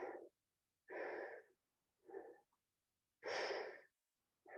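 Heavy, deep breaths come after setting down weights in a Pilates fusion workout: four long breathy exhales with quiet gaps between, close and fairly soft.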